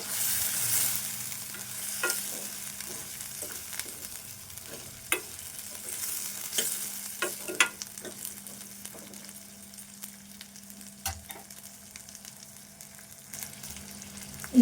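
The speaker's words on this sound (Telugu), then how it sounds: "ఇప్పుడు ఈ నానబెట్టిన శనగలు వేసుకుందాము ఇందులో శనగలు కూడా కొద్దిసేపు వేగాలి" Soaked chickpeas fry in a pan with masala for a mild curry, a steady low sizzle broken by repeated scraping clicks of a spoon stirring, close and clear with no talking.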